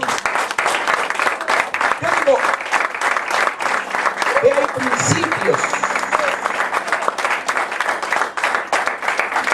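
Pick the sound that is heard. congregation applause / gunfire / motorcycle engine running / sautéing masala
congregation applause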